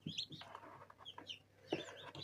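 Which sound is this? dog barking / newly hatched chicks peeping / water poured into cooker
newly hatched chicks peeping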